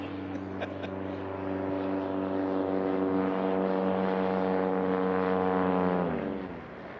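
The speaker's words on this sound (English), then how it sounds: "Easing it on in with his Carbon Cub. Nice landing, Bruce." A Carbon Cub light aircraft landing in a STOL drag race heat, its propeller engine droning steadily with a strong harmonic buzz that then drops in pitch and fades as power comes off.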